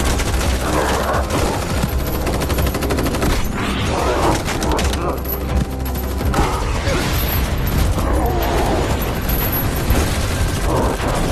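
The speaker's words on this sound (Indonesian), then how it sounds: "pasukan militer juga bahkan harus menggunakan granat launcher" Military troops fire guns and grenade launchers in a film action scene, a dense continuous barrage of gunfire and blasts mixed with score and effects throughout.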